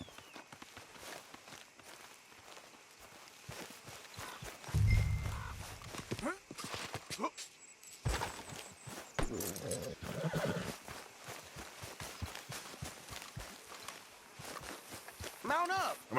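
Horses in Red Dead Redemption II, with clip-clopping hooves, footsteps and a whinny, moving close by amid game sounds and character voices talking over them.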